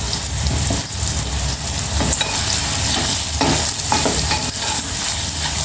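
Bottle gourd pieces frying in oil with turmeric, a loud, close, continuous sizzle broken by repeated rhythmic stirring scrapes of a spoon in the pan.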